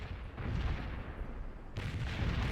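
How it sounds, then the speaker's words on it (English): Dense, rumbling booms and blasts of artillery fire in the video game World in Conflict: Soviet Assault, during a Soviet attack on a town, roll together continuously, loud and chaotic, with one sharp burst standing out near the end. "Just so many explosions."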